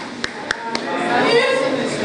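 A short burst of three evenly spaced claps from an audience at a journalism school briefing, followed by a murmur of voices and room noise.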